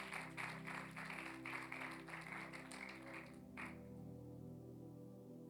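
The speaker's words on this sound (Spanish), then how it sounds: "dale un fuerte aplauso al Señor" A church congregation applauds during a Spanish-language sermon, with a dense burst of clapping over sustained keyboard or organ chords that cuts off sharply after about three and a half seconds, leaving only the music.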